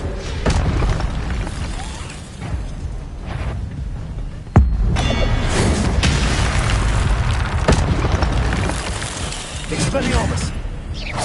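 A spell cast in the video game Hogwarts Legacy, with a sharp burst followed by magical whooshes and booming effects over a dense, continuous game soundscape; a voice speaks along with it.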